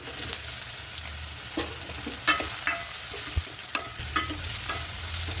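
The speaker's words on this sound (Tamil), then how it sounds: "கருவேப்பிலை 2 கொத்து போட்டுக்கலாம். கட் பண்ணி வச்சுருக்க முருங்காவை போட்டுக்கலாம்." Curry leaves and cut drumstick pieces sautéing in a hot pan for a cowpea curry, a steady soft sizzle with scattered scraping stir clicks from a spoon, close and alone without talk.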